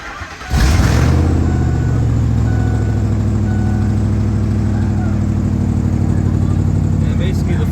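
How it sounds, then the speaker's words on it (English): A 2003 Ford Expedition engine, running after fuel system cleaner was added, cranks and catches, then settles into a loud, steady idle that holds unchanged for several seconds. "we're gonna go ahead and run the engine for a little bit"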